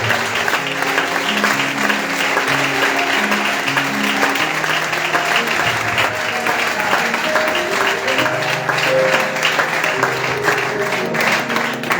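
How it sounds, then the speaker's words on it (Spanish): Church congregation at a youth convention bursts into sustained, loud applause, dense clapping from many hands, with music playing beneath it throughout. "Dale un fuerte aplauso si lo cree."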